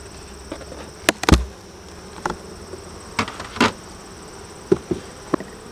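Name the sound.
honeybees buzzing in a hive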